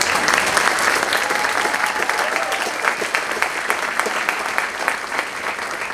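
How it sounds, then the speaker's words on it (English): Steady applause from a school choir concert audience, clapping for Mrs. Lynn Zimmerman, fills the hall at a constant level with dense overlapping claps and no talk. "could we please give Mrs. Lynn Zimmerman a clap?"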